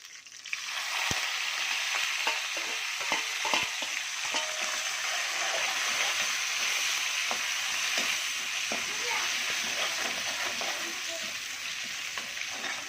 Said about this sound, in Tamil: இதுதான் நம்ம வந்து இந்த எண்ணெயில் போட்டு தாளிக்க போகிறோம்